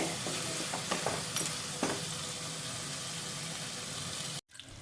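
Spices for palak paneer, including a ground paste, fry in a pan with a continuous close sizzle, broken by occasional scraping stirs, before a brief cut near the end.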